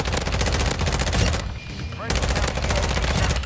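Bursts from an ISO 45 (APC45) submachine gun in Call of Duty: Modern Warfare II: loud, rapid automatic fire in two long strings separated by a short pause.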